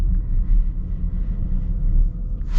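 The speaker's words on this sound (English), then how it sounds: "It's kind of loud. It's kind of a noisy massage, a little bit." A massaging seat motor in a 2025 Nissan Murano Platinum gives off a low, continuous rumbling hum with slight pulsing swells, fairly loud and close, with no talking.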